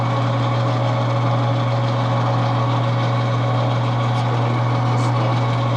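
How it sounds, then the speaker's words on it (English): A metal lathe runs with its automatic drive feed engaged, a threaded drive rod turning the handle as the carriage feeds in; a loud, constant mechanical hum with a strong low tone drones close by without pause or talk. "this lathe is capable and it's set up. You see the threaded rod that's sticking through here is a drive rod, and so when I engage the drive"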